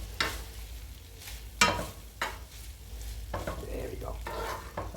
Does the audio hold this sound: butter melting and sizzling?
yes